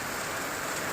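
Rain falls steadily on surfaces in a village during a storm, a dense, even hiss without pauses, close and moderately loud, with no voices.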